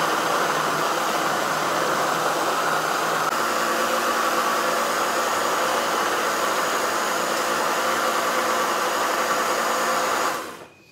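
A blender purées cooked beans into a broth for bean soup, giving a steady, loud whirring roar that runs unbroken for about ten seconds before cutting off.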